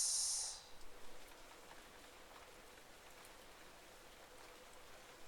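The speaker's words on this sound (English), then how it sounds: "a terrible storm began to rage, washing away the sound of my footsteps" A terrible storm pours heavy rain near a forest hideaway, a steady soft hiss of rainfall that continues throughout, with a brief brighter burst at the very start.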